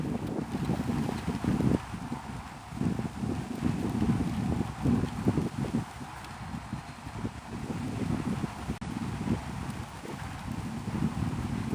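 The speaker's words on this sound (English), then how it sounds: "the wind just came from the storm that's coming through" Gusty wind from an approaching storm buffets the microphone at Santa Rosa Sound near Navarre, Florida, a steady low roar with irregular surges, with no talk.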